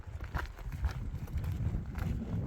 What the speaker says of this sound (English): Oh, horse is strung up on the other side.